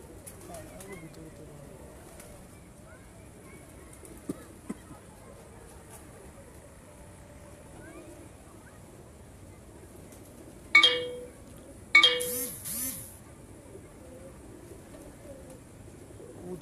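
Pigeons on a rooftop at night, with soft, distant cooing that stays faint under a low background hum, followed by a couple of sharper, louder calls near the end.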